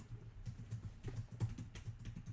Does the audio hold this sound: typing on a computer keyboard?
yes